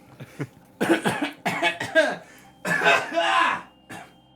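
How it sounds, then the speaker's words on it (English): Several harsh coughs in quick bursts, close and loud, with throat clearing between them. "just getting the coughs out"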